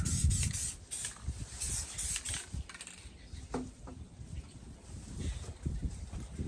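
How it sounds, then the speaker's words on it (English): Short bursts of aerosol clear coat spray hiss close by from a spray paint can, with brief pauses and light rubbing and handling noises between sprays. "Spray a little bit of clear coat here."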